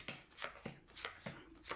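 A deck of cards is cut by hand at a table during a card reading, with a few soft, quiet slaps and riffling shuffles spread over a second or two.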